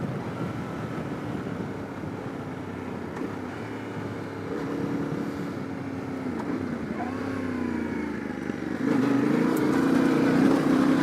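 A Yamaha T700 World Raid adventure motorcycle heading onto slippery gravel, its steady engine drone running continuously and rising a little in loudness toward the end, with no talk.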